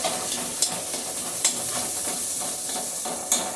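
Jujube (boroi) frying with salt and turmeric, a dense, close hissing sizzle that runs throughout, with a few louder crackles or stirring scrapes; no voices.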